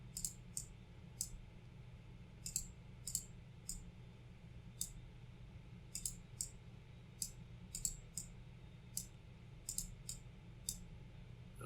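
A computer mouse clicks repeatedly while objects are edited in Scratch 2, quiet, crisp, close taps arriving singly and in quick pairs at irregular intervals over a low steady room hum.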